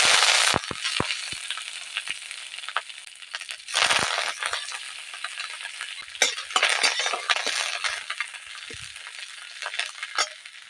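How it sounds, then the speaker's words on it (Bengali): Crushed ginger and curry leaves hit a little oil in a wok (kadai), giving a close, steady hiss of sizzling broken by a few sharp crackles and stirring clatters. "আমরা সামান্য একটু তেল দিয়ে দিলাম কড়াইয়ে, অল্প একটু আদা, থেঁতো করা আদা আর কারি পাতা"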